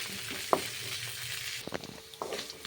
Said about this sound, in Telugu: అందులోనే కరివేపాకు, అదేవిధంగా పల్లీలు, శనగపప్పు. ఇవి దోరగా వేయేంత వరకు మనం కలుపుతూ వేయించుకోవాలి.